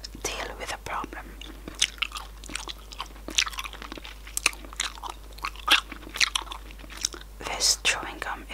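Candy floss chewing gum is chewed up close in a continuous run of wet, sticky smacks and soft crunches, with breathy whispering woven through.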